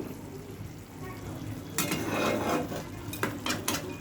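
Pomfret fish being added one by one to simmering mustard-poppy gravy in a pot, with a brief clatter, then a steady bubbling sizzle and a few sharp utensil knocks close by; no talking.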